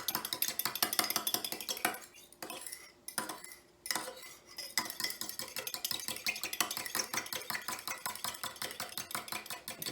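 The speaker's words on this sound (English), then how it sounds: "Then I'm going to give that egg, oil, and milk a stir." Metal utensil whisking egg, oil and milk in a bowl for Scottish scones, a fast steady run of close clinking scrapes against the bowl with a brief pause before resuming.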